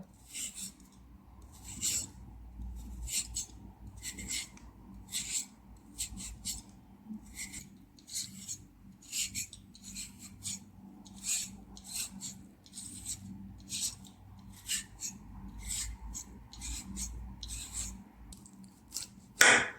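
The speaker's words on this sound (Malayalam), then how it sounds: "ഇത് ജൂലിയൻ പീലറാണ് അപ്പോൾ ഇത് വെച്ചിട്ട് നമുക്ക് ക്യാരറ്റ് ഇങ്ങനെ നീളത്തിൽ പീൽ ചെയ്തെടുക്കാം" A julienne peeler drawn lengthwise down a carrot in steady, rhythmic scraping strokes, close and crisp, with short pauses between passes while making coleslaw salad.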